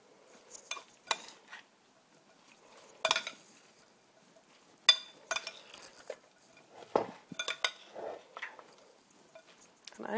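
Chopped onions are tossed in a bowl, giving scattered light clicks, scrapes and soft rattling knocks at irregular intervals, quiet and close by.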